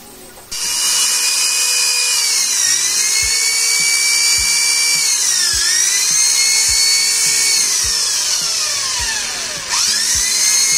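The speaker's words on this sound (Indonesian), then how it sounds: "ini bor kecil untuk bikin jalur pegangan tasinya atau senar" Small drill boring a hole through solid teak wood for a slingshot's cord groove, a steady high-pitched whine running nearly continuously after a brief start, with pitch dipping as the bit bites, close and loud.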